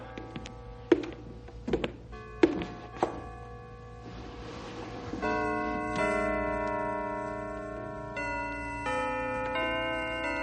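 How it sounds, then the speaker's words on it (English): Church bells ring out, first a few separate struck tones with pauses, then a sustained run of overlapping chimes playing a melody, moderately distant. "Listen, the bells. They're working again."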